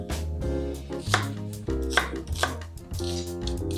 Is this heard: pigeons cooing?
no